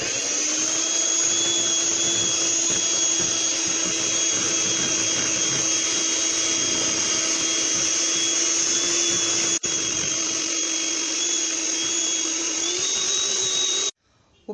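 An electric mixer whirs loudly and steadily as it beats butter cream with vanilla, holding one high, even whine throughout, with a brief dip partway through before it cuts off at the end.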